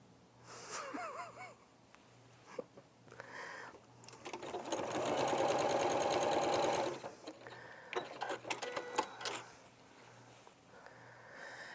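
A sewing machine runs in a close, loud burst of rapid stitching lasting a couple of seconds, surrounded by shorter starts, clicks and handling noises, with faint breathy voice sounds nearby.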